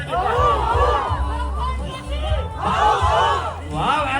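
A street parade crowd at a civic celebration in Pasig erupts in loud, sustained shouting and cheering, many voices rising and falling in waves of chanting howls over a background of crowd babble.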